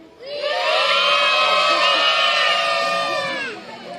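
A group of children shouts loudly together at an outdoor falconry demonstration at a Belgian château, a sustained collective yell lasting a few seconds before fading.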